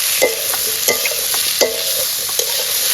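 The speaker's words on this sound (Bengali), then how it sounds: "কুচি আর মরিচ কুচি, লাল লাল করে ভেজে নিব" Chopped onion and chili frying in a pan for a village-style Bengali shellfish curry, with a steady sizzle under periodic sharp scrapes and clinks of a stirring spoon against the pan, close and moderately loud with no talk.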